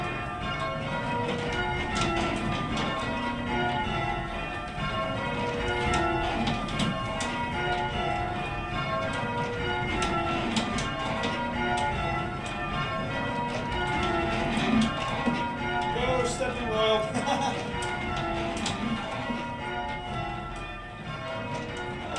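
Church tower bells rung by a team of bell ringers in Derbyshire sound in changing peals, a continuous cascade of overlapping clangs cycling through shifting patterns, steady and fairly loud, with no talking.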